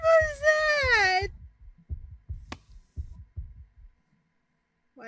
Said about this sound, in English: Why is heartbeat sound?